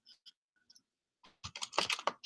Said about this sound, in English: I've got a cat walking on the keys